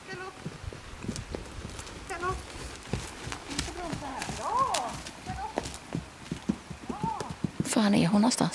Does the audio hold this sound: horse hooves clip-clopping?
yes